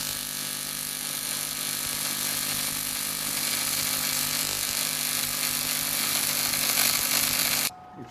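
A TIG welder making a fusion tack on 3/4 inch 6061 aluminum plate at AC balance, a steady close buzzing hiss that holds for several seconds, then cuts off abruptly.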